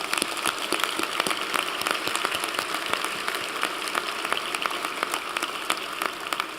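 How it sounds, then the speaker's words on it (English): Applause from an audience at an award ceremony, a steady dense patter of clapping hands that holds evenly throughout without voices. "So let's clap for them."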